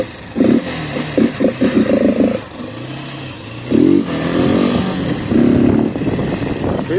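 Motorcycle with a modified exhaust revs repeatedly at close range, several quick throttle blips with a deep, raspy growl, then a longer rev, settling between bursts into a rough idle.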